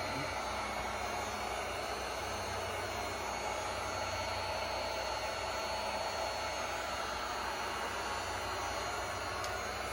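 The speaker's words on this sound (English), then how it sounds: "It's going to be a lot of heat gun and seeing if it's going to move and be pliable." A heat gun blows steadily on a damaged Porsche bumper cover, a continuous even airy roar with no breaks from start to finish.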